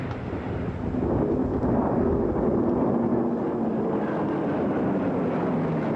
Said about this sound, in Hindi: This formation is flying at a speed of 555 kilometers per hour.